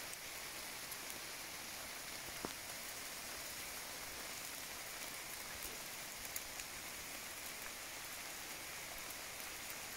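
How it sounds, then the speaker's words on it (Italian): Steady, even rain falls on a forest clearing during a summer thunderstorm, a dense continuous hiss with scattered louder drops striking nearby surfaces, heard alone without any voices. "la pioggia cade nella radura più esterna del nostro bosco"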